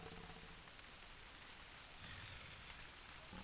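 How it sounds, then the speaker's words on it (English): Rain pours steadily in the hunting video game The Hunter Primal, a dense, even hiss of falling drops with a faint low rumble beneath it, continuous and with no voices. "This is rain, I can't see a thing."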